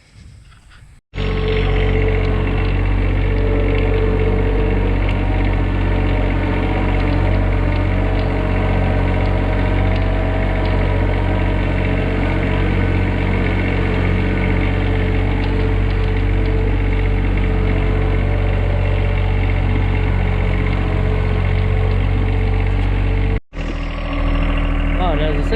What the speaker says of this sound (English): it's a little hard to hear over the tractor